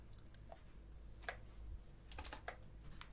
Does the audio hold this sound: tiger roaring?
no